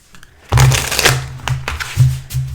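A deck of tarot cards being shuffled up close: loud, papery riffles and soft thumps as the cards are cut and squared, repeating every half second or so.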